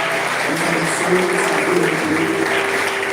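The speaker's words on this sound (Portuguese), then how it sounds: "Vamos aplaudir a Jesus bem forte por essa noite, por essa palavra." A church congregation applauds loudly and steadily, dense clapping filling the room with faint voices and sustained tones underneath.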